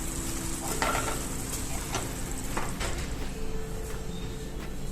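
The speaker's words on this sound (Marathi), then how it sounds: "पाण्याला उकळी आल्यानंतर मी गॅस बंद केलाय आणि मग मी त्यामध्ये रवा मिक्स करते आहे" Semolina being stirred into just-boiled water in a pan on a switched-off stove, a steady scraping and bubbling texture with a few soft spoon strokes, close and continuous.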